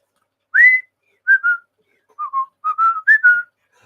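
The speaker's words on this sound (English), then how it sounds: "Can you whistle?" A person whistles a short tune of gliding, clear notes in several bursts, close and alone with no talk around it.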